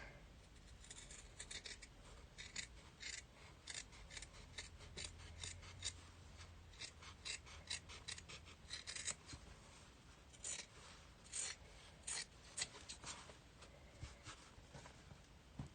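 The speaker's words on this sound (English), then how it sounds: "So I'm going to use the big scissors." Repeated crisp snips of large scissors slicing through fabric, coming in quick irregular bursts close by, with no speech.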